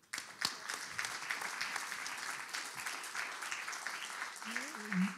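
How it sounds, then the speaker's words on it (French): Audience applause at a public debate on energy sovereignty, a sustained, fairly soft patter of clapping from a gathered crowd, with a few sharper claps early and a brief voice rising near the end. "On peut l'applaudir ?"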